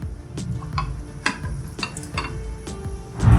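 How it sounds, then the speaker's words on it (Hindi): Boneless beef, a kilo of it, frying over high heat in hot oil in a karahi pan, with close sizzling and repeated sharp stirring scrapes and clacks spread through the stretch, building louder at the end. "अब इसको 2 से 3 मिनट हम अच्छी तरह फ्राई करेंगे तेज़ आंच पे"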